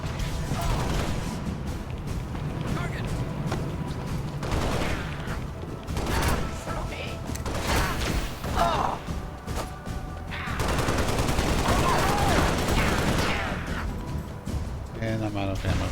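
Rapid gunfire bursts and explosions in Halo: Spartan Assault on Xbox One, dense repeated shots with crashing impacts, heard under frequent talking.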